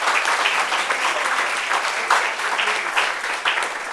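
A studio audience claps steadily throughout, a dense, fairly loud wash of applause with occasional sharper peaks and no clear voices.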